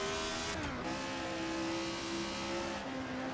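A retro F1 car's engine in Assetto Corsa at Donington Park holds a high, steady whine, then drops sharply in pitch as the throttle lifts, steadies and dips again near the end.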